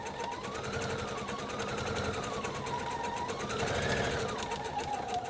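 A sewing machine runs steadily, stitching down leather for a coffee pot mat, with a rapid even needle clatter and a motor whine that rises and falls with speed, close and clear without talk.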